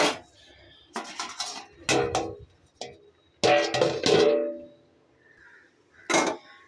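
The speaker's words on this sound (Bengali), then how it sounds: "এবার একটু চাপা দিয়ে দেবো।" Metal clatter of a lid being set over a cooking pot of banana-stem curry, a handful of sharp clanks and scrapes spread across the moment, close and fairly loud with quiet gaps between.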